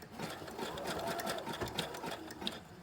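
A sewing machine runs continuously, stitching a long straight line of fabric for ruffles, its steady mechanical whir close and fairly quiet with no talking over it.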